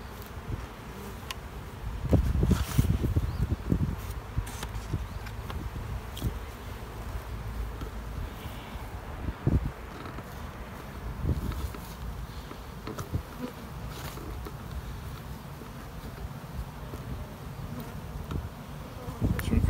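Honey bees buzzing at a hive that is still sparsely populated and expanding, a steady continuous drone held for the whole stretch, with a few louder knocks and bumps from hive handling near the start.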